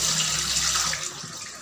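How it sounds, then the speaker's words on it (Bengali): Rice being washed in water, a steady rushing splash of running or sloshing water that fills the whole short stretch, loud and close, with no talk. "এই যে এখন ভাত চাল ধুয়ে রাখছি"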